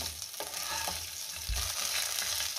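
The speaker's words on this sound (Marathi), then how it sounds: "2 मिनिटं मी मिरची चांगली परतून घेतलेली आहे" Green chillies sauté in a pan for a Maharashtrian lemon-chilli side dish, giving a continuous dense sizzle close up with a faint scrape of stirring partway through.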